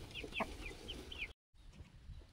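Village chickens in the Nepali Himalayas cluck and squawk as their coop is opened, several short calls close by over a quiet farmyard background, followed by a brief gap and softer rustling.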